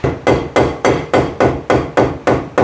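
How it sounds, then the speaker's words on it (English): Steady, loud metal hammer blows, about ten evenly spaced strikes, pounding on a stuck axle on an abandoned Porsche being repaired, heard close and alone. "This is stuck right now, so I'm just hammering it to see if it comes out."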